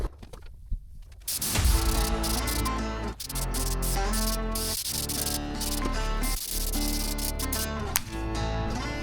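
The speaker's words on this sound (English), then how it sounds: "Let's paint this thing." Spray gun laying paint onto a sanded, masked BMW E92 cover, a steady hissing spray running almost continuously after a brief quiet start, with music playing underneath.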